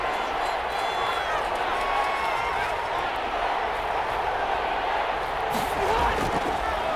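A stadium crowd roars in Madden NFL 21 during a Colts vs. Lions game at third and goal, a loud sustained wash of cheering with a commentator talking over it.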